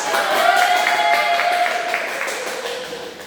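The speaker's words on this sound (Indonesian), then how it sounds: "Kasih tepuk tangan dulu." Classroom of students applauding a group coming up to present, a soft, diffuse patter of many hands that fades slowly toward the end.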